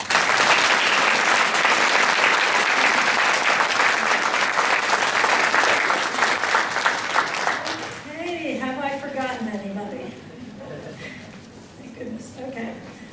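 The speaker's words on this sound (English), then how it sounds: "can we have one more round of applause for all of us?" An audience at a reception for the Student Peace Awards of Fairfax County gives a loud, sustained round of applause that gradually fades, with voices talking over the thinning clapping toward the end.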